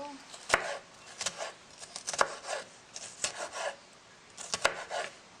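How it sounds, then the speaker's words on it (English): A knife cuts peppers in quick irregular bursts of sharp, close chops, some strokes landing in pairs, with brief pauses between the runs. "then I'm gonna cut these peppers."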